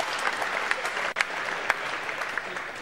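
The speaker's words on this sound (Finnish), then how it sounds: "Ja johtajat saavat ansaitut aplodit." Crowd applause at a futsal tournament final's medal ceremony, a continuous even patter of many hands with a few sharper claps poking through, moderately loud and unbroken for a few seconds.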